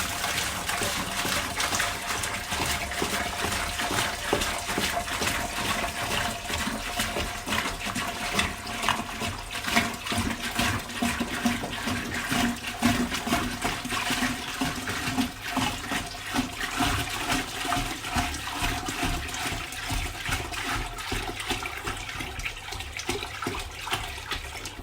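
Water pours steadily into an aquarium tank while saltwater is being mixed, a continuous broadband rush with bubbling and trickling that holds level throughout, fairly close and with no one talking over it.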